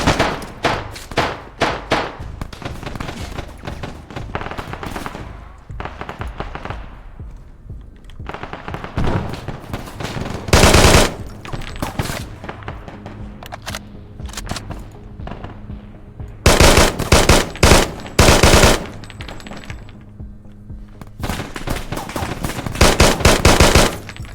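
Heavy gunfire rattles through a military shooter video game, with long bursts of rapid automatic fire mixed with single loud shots and thuds, close and dense, easing briefly between the fiercest volleys.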